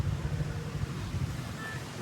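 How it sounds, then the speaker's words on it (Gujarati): Steady low wind buffeting and rumbling against the microphone, continuous for the whole stretch with no voices. "પવન બવન આવે ને ઠંડો વાતાવરણ સારું છે"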